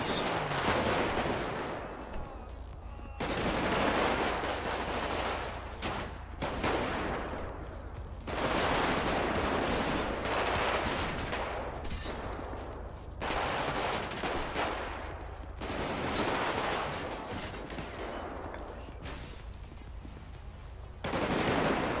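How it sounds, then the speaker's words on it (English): Sustained bursts of automatic gunfire in the FivePD police game, loud and dense, coming in long volleys separated by short pauses, with some voices mixed in at times. "1-4-6 shots fired."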